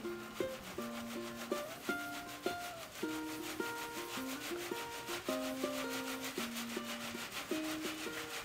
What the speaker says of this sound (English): So I'm just going to put some in this screen, this little sifter thing, and just kind of break it up as I put it in here